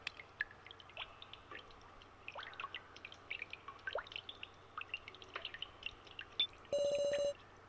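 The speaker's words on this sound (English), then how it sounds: "A red liquid leaks from the teddy bear's eyes." Red liquid dripping from a teddy bear's eyes in the video game Your Turn to Die: scattered, irregular drips and small splashes, quiet and close, ending with a brief electronic tone.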